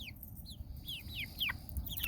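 Rhode Island Red and Silver Lace Wyandotte hens inside a coop give a quick run of short, high, falling calls, fairly faint over a low background rumble.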